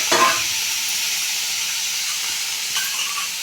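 Tomatoes frying in a pan give a steady close sizzle and hiss, with a stirring clatter at the start and another soft scrape near the end.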